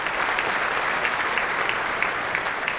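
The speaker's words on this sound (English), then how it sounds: "Let's put our hands together and give her a round of applause" Audience applause at an award ceremony for the Kiwi-Indian Hall of Fame in New Zealand, a steady, dense wash of many hands clapping throughout, fairly loud and even with no speech over it.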